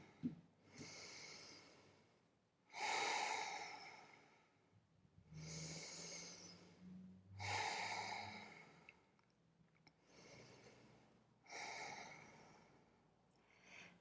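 Slow, deep yoga breaths during a vinyasa flow, five long breathy inhales and exhales spaced a few seconds apart, close to the microphone and fairly quiet, with no talking.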